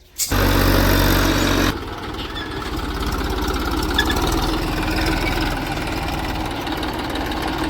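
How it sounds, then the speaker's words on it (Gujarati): A tractor engine idles close by in a farm field before wheat sowing, with a steady low rumble and rattle, briefly louder at first before settling into an even chug. "ટ્રેક્ટર આવી ગયું છે"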